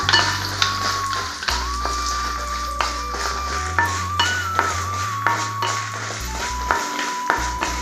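Dried red chillies fry in hot oil alongside chana dal and urad dal for a radish chutney, a steady close sizzle broken by frequent metal spoon clinks and scrapes against the pan.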